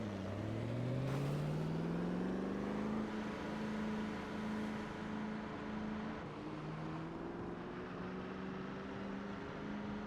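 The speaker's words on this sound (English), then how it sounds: "Yeah, this car has a 570 horsepower engine in it." Car with a 570 horsepower engine driving, its engine tone climbing as it accelerates then settling into a steady, slightly varying drone, heard from inside without talk.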